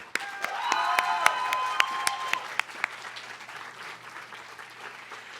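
An audience at a student and faculty awards celebration breaks into dense applause with a few louder nearby claps, swelling briefly then thinning out, with faint background voices.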